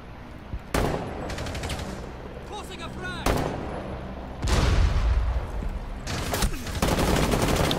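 Gunfire in Rainbow Six Siege, a competitive tactical shooter, with several loud sharp bursts of shots spread across the moment, ringing against a steady background of game sound while players talk.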